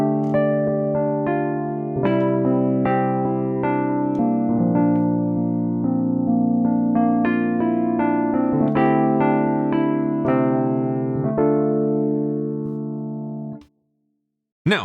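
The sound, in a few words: Wurlitzer electric piano, dry without plugin effects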